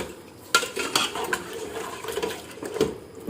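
Water splashes into a pot of frying mutton, potatoes and masala, with sizzling, stirring and a few clinks of a metal spoon against the pot, close and moderately loud.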